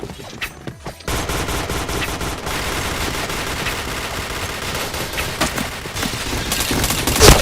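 Sustained rapid gunfire from a shooter video game, dense bursts of automatic fire running almost continuously after a few sharp opening shots, loud and close with no speech over it.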